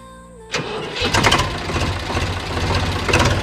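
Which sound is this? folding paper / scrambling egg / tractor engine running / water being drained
tractor engine running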